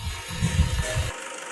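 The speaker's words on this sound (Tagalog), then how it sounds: "inobserbahan din yung andar ng makina kung palyado" A car engine runs steadily after a snapped timing belt was repaired along with camshaft caps and oil seals, a close low rumble that cuts off abruptly near the end.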